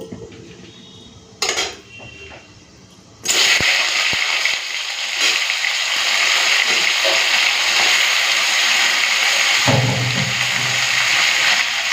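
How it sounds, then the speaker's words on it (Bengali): Chopped tomatoes hit hot oil tempered with dried red chillies and five-spice seeds for a spicy chicken curry, bursting into a loud, steady, close sizzle after a few soft utensil clinks, then frying on without pause. "ফোড়নটা ভাজা ভাজা করে নিয়েছি এখন কেটে রাখা টমেটোগুলো দিয়ে দেবো"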